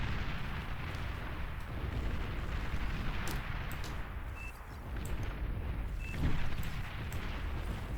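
Gauss round explosions in the real-time strategy game Beyond All Reason: a dense, continuous rumble of distant booms and artillery-like blasts, with a heavier swell near the end and no speech.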